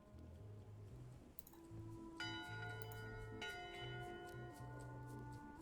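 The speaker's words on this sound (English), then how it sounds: "Top deck schedule. 1 bell, crew voting. 2 bells, the Chuck shouting" Ship's bell on the top deck in the game Return to Monkey Island, rung in a few clear metallic strikes with long ringing decay over soft low game music, no talking.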